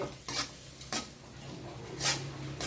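A spatula scrapes and clanks against a pan while fried rice is stir-fried with a sauce and sugar seasoning mix, giving a few soft separate scraping strokes over a faint background hum, with no talking.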